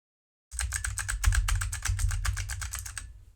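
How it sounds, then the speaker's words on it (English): Rapid, steady clicking of arrow keys on a loud computer keyboard, tapped close up for about three seconds after a short silence, with no talking. "That's just me tapping on the arrow keys."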